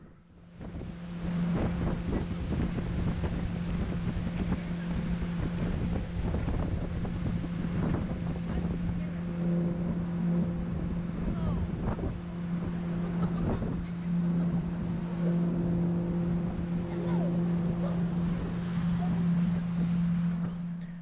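A boat motor hums steadily on Lake Hartwell in November, with wind buffeting the microphone and occasional splashing, continuous throughout.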